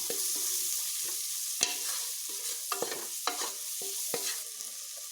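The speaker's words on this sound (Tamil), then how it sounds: "நம்ம இப்போ நம்ம அரைச்சி வச்சுருந்த மசாலா பொடியை சேர்த்துக்கலாம். சேர்த்துக்கிட்டு வதக்கிக்கலாம்." Ground masala powder frying with softened tomatoes in a pan for chicken biryani, a soft sizzle under repeated spatula scrapes and knocks against the pan, close and without talk.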